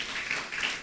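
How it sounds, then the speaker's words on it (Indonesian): A church congregation claps for its worship leaders and musicians during a Sunday service: a brief, steady wash of applause lasting under a second. "Boleh kasih tepuk tangan buat worship leaders dan para musicians."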